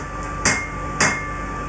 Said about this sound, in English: there's more to it than just whacking it with a hammer